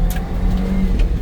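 Suzuki Carry mini truck pulling hard in first gear with both rear tires spinning on a muddy surface, a short, loud, steady engine drone.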